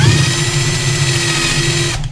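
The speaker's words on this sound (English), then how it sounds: "If not, I guess I'm gonna have to pop out my drill." A power drill whirs steadily at high speed while taking apart an old MacBook Pro laptop, loud and close, running continuously for about two seconds before cutting off abruptly.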